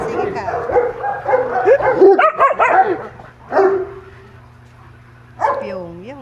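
Several pet dogs bark and yip close by, with a short burst of sharp barks and a whimpering call between them, while people talk over them in a lively exchange.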